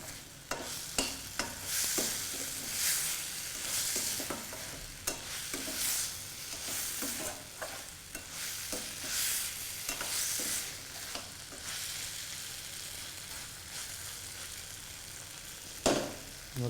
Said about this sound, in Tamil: இதை அப்படியே வந்து இந்த மசாலா கூட அப்படியே பெரட்டணும்.